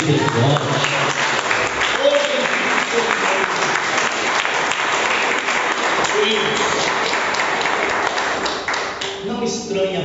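Steady applause from a church congregation fills the space for about ten seconds, dense, even clapping with a few voices mixed in, easing off slightly near the end.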